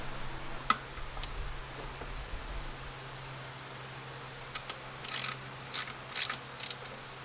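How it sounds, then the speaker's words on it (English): Torque wrench clicking on engine head bolts of a small-block Ford 302 being fitted with GT40P heads, a few isolated ticks early, then a quick series of short ratcheting bursts near the end in a quiet workshop. "We'll get to torquing those bolts down now."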